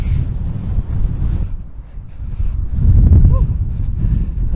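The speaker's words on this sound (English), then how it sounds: "It's difficult to know which direction the wind is coming from." Wind blowing across an exposed Iron Age hill fort summit on Mount Caburn near Lewes, Sussex, buffeting the microphone in steady low roaring gusts that swell louder toward the end, with no talk.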